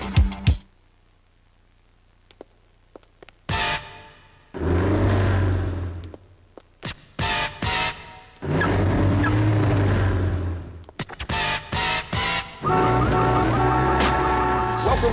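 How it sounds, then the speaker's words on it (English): Formula D drift cars roar through bursts of engine revving and tire squeal, loud and close, arriving in repeated runs separated by brief quiet gaps. "First up, Formula D, drifting, raw and uncut."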